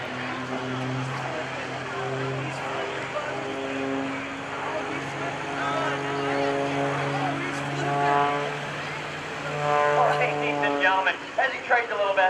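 A propeller aerobatic plane performs at the 2012 NAS Oceana airshow, flown by Kevin Coleman at up to 270 mph under heavy G loads, its engine droning steadily and swelling in pitch as it maneuvers, with a voice talking over it.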